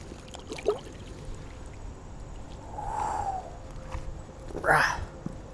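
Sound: fish released back into the water

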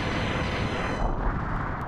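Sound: explosion attack in a Mega Man X video game

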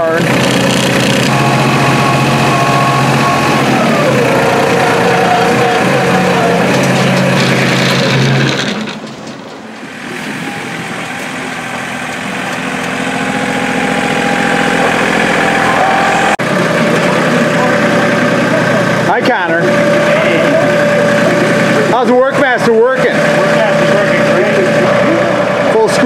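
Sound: New Holland Workmaster 25 tractor engine running

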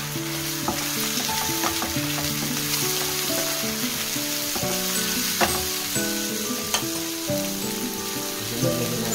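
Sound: pechay vegetables frying with tocino in pan

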